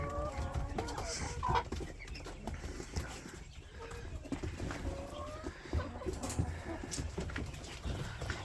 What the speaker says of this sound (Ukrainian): Дуже гарний півень.